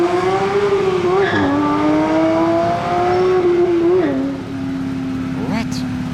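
A modified sports car pulls hard with a loud, close engine note that climbs through the gears. Short tire chirps come at each shift, and a voice talks over it.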